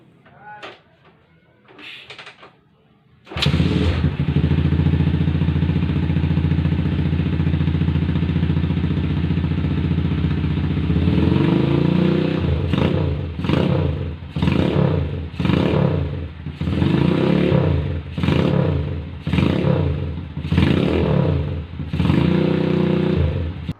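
A motorcycle engine checked for oil leaks after repair catches after a few quiet clanks and settles into a loud, steady idle. It is then revved repeatedly in sharp surges with rattling clatter, close up.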